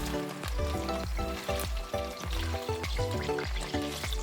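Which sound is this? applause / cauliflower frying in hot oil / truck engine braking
cauliflower frying in hot oil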